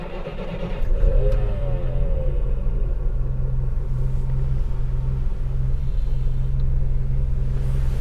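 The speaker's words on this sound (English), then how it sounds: "We've got the engine running in here and it really does sound very smooth indeed." A 1968 Citroen ID19, a base-model DS with a four-speed column manual, idles smoothly close by, its engine swelling in a single brief rev before settling into a steady low running drone.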